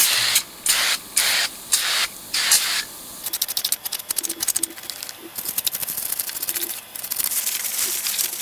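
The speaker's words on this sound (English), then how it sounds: "You can only get it off with a bit of foam cleaner." Several short bursts of foam cleaner spray onto a professional Yamaha amplifier, loud, close hisses with gaps between them, then rapid clicking and rattling handling noises follow.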